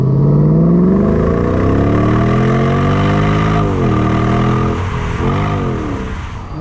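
A Mercedes SLK 55 AMG with a 360-horsepower V8 roars loudly up through its revs, dips and climbs again, then eases off, close and alone with no voices.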